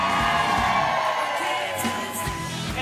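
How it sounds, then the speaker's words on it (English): Crowd at a live event cheering and whooping, with high-pitched screams from women rising over steady crowd noise and a voice in the mix, loud and sustained throughout. "Ladies, let me hear a scream."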